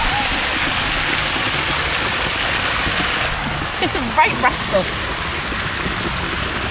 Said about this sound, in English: It's freezing water coming out of there and all.